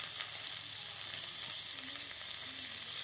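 Poha with turmeric in a pan, a soft steady sizzle with faint stirring scrapes, close but quiet and continuous.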